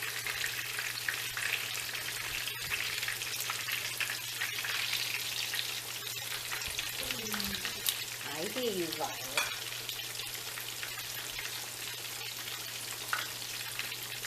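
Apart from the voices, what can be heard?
chicken cutlets frying in a pan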